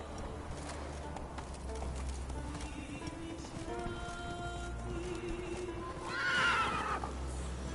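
Roach, the horse in Witcher 3, gallops with continuous hoofbeats under game ambience, then lets out a loud, wavering whinny near the end.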